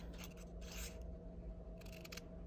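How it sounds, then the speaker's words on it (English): Scissors slice through fabric for a basic shawl collar in two short bursts of close, crisp snipping and rasping over a steady low background hum. "I'm going to try to cut it straight."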